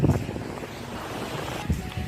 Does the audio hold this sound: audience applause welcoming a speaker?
no